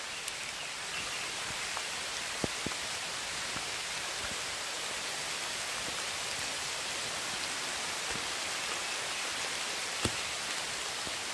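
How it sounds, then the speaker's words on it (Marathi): Steady rain falls in a rural Konkan orchard in the countryside, a continuous even hiss with a few scattered louder drops and no talking. "तुम्हाला आवाज येत असेल पावसाचा. पाऊस येतोय, भिजतोय."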